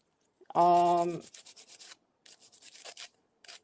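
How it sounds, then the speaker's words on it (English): A nail file rubs against cured resin in short rasping strokes: one longer scrape, then a quick series of brief, close, dry scratches with pauses between. "I will have to get some actual sandpaper because this is just a nail file."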